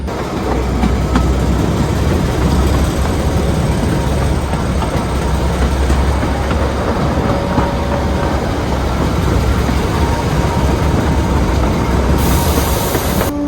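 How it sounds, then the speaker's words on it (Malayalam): The Kangra Valley Railway toy train climbs toward Joginder Nagar with a loud, continuous rumble of wheels and carriages, rattling steadily throughout, with a faint squeal near the end. "ജോഗീന്ദർ നഗറിലേക്ക് എത്തേണ്ട നമ്മുടെ ടോയ് ട്രെയിൻ കയറിക്കൊണ്ടിരിക്കുകയാണ്"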